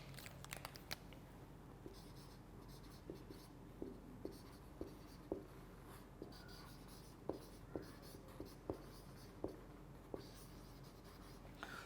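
Marker or chalk writing on a board during a chemistry lecture on Boyle's law, a steady run of faint taps and strokes in an irregular rhythm, quiet and alone.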